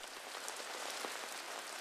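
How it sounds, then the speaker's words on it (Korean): Early winter rain falls steadily in a rural Korean village, a soft, even hiss of drops close by with no voices, holding constant throughout. "초겨울에 추위를 재촉하는 비가 내리는 어느 날"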